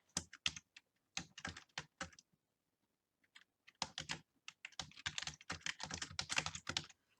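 Typing on a computer keyboard: bursts of quick, crisp key clicks in uneven runs, with a pause of near silence in the middle, close and clear.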